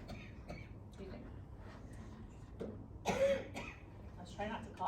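A quiet voice talks, then a few close coughs and throat clearing break in, a short harsh burst around the middle.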